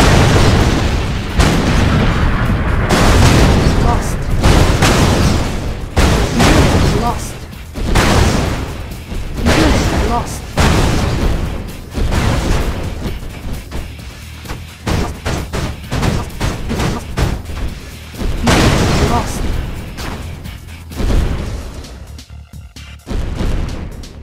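A Red Alert 2 nuclear missile strike: a long series of heavy booming blasts and rumbling detonations, loud and close, rolling on with repeated impacts and crackling debris.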